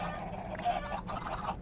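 Chickens squawking in the farming video game Magic Farm 2, a harsh, honking cluster of cries over a busy background of game noise, fairly loud and continuous.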